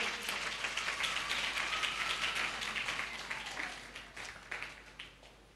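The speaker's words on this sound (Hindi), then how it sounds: "आइए ताली बजाएं, प्रभु को महिमा दें।" A church congregation at a Friday worship meeting claps together, a dense burst of applause that starts strong and gradually thins and fades out over several seconds.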